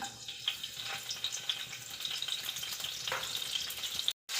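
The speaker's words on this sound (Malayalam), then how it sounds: "എണ്ണയൊന്ന് ചൂടായി വരുമ്പോഴത്തേക്ക് നമുക്ക് അതിനകത്തോട്ട് മൂന്ന് കഷ്ണം ചെറിയ വെളുത്തുള്ളി അല്ലി നമുക്ക് ചേർത്ത് കൊടുക്കുക" Small chopped garlic cloves frying in hot oil, a steady crackling sizzle with light stirring scrapes, moderately quiet and close, cut off briefly near the end.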